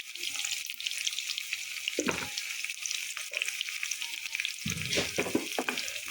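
Onion, garam masala and bay leaves fry in hot oil for a beef dish, giving a soft continuous sizzle with a few louder stirring scrapes partway through.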